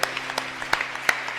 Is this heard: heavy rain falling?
no